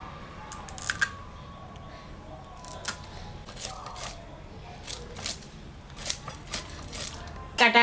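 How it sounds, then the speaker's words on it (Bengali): Magur catfish being cut into pieces, with sharp snipping clicks and wet cuts arriving in irregular bursts over quiet kitchen background, close by. "মাছটা আমি কাটবো। এইরকম করে পিস করে নেব।"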